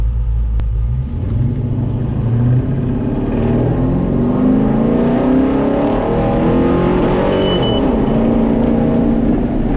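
A car accelerates hard from close by, its engine roaring loud and steady as the revs climb through first gear before the shift, with no talking over it.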